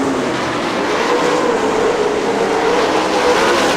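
Sprint cars racing at Fremont Speedway in an IRA Sprints event, a loud continuous engine roar with a slowly shifting pitch, close and unbroken with no voices.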